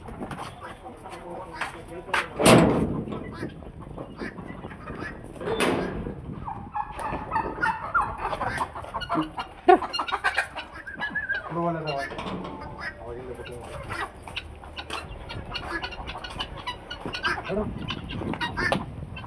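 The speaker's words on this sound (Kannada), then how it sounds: "ನಾಟಿ ಕೋಳಿ ಒಳ್ಳೆ ಇದು ಅಲ್ಲ ಜನ." Country chickens cluck and gobble intermittently around a farmyard while people talk nearby, the bird calls rising in short bursts through the conversation.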